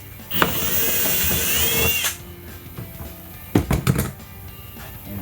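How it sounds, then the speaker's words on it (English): A power drill with a 1/8 inch bit bores a hole while a snorkel cold air intake is fitted to a Jeep Gladiator JT. A steady whining spin runs for under two seconds, followed by a couple of short, sharp bursts. "I'm gonna use an 1/8" drill bit."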